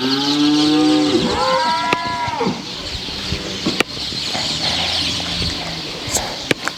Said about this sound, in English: So this is the cross of a local ANKOLE cow and a Holstein Friesian